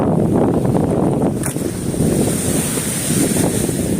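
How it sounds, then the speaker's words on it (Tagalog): Waves washing in at Manila Bay, a steady roar of surf heavily mixed with gusting wind buffeting the microphone, continuous and loud throughout with no voices. "parang umpisa na yung ingay ng alon."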